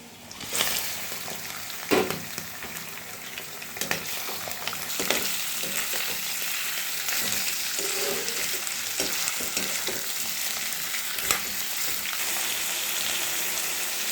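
Onions browning with bay leaves in a pan as meat goes in, a steady loud sizzle with occasional clicks and scrapes of stirring throughout, no voices.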